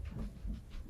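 A small dog pants and whimpers close by, with quick rhythmic breaths repeating about three times in a second.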